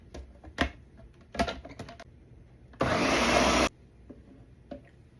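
Kitchen blender whirring through salsa verde with cilantro, a single loud burst of under a second amid quiet clicks and clatter before and after.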